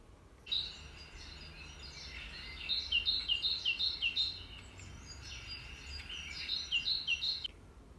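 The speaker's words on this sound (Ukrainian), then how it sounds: "Так, вірно, це спів шпака." A starling delivers a run of repeated high whistles and chirps in a steady rhythmic series, clear against a quiet background with no speech.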